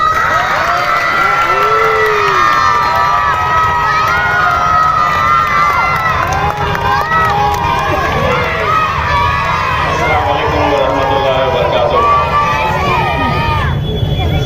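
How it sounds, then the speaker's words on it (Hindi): Loud crowd at a political gathering for MP Imtiaz Ali, dense cheering and shouting voices with clapping underneath, continuous and close throughout. "जनाब इम्तियाज अली साहब, जोरदार तालियों से सरवाइए"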